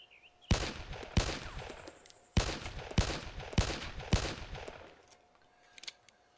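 Rifle fire in the DayZ video game aimed at a tree: about six sharp, loud gunshots in uneven succession, each with a short ringing tail, and no talking.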